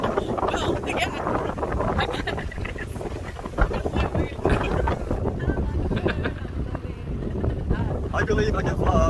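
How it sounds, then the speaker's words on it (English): Strong southwesterly gale-force wind of 47 knots blowing off a coastline, heard as loud, constant buffeting and roaring across the microphone while people talk over it. "Strong southwesterly coming off the coastline. A gale force 47 knots."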